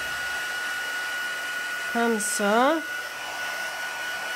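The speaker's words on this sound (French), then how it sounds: "je vais juste y donner un petit coup de fer chauffant" A heat tool blows over painted paper to dry it, making a steady whining hum throughout, with someone briefly speaking in French partway through.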